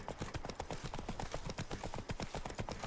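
A horse canters in The Witcher 3: Wild Hunt, producing quick rhythmic hoof clip-clops that stay close and even throughout, with no talking.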